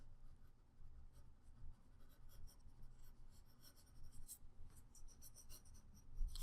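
A pencil or pen scratches across paper while sketching the cast shadow of a tree in a landscape built from geometric forms, a quiet, close series of soft strokes and rubs.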